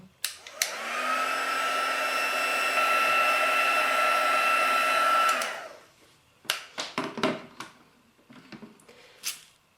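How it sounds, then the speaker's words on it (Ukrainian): A heat embossing tool whirs steadily for about five seconds melting embossing powder, then switches off, followed by a few light taps and clicks. "Розплавимо пудру феном для гарячого ембосінгу."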